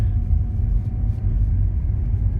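A car driving on a dark road at night gives off a steady low engine and road rumble from inside the cabin, continuous and even throughout with no talking.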